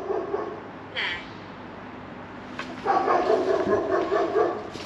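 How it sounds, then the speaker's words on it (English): A dog barks in short bursts in the background during a night investigation at an old silver mill, with a quick yelp early on and a louder run of barking toward the end, under ambient noise. "that dog's not helping."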